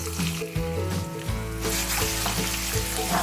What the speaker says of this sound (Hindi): ऑयल थोड़ा सा गर्म होगा, फिर उसके बाद हम प्याज और अदरक लहसुन का पेस्ट ऐड करेंगे।